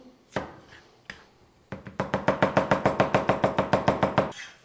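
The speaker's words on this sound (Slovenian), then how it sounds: "Treba je na tenko nasekljati. Dodamo česen." Garlic being finely chopped with a knife on a board, a few separate cuts followed by a fast, steady run of about twenty even strikes, close and clear with no talking.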